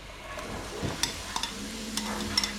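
Onions sizzling and crackling in a hot pan, with a few sharp clinks and scrapes of stirring on top of the steady frying hiss.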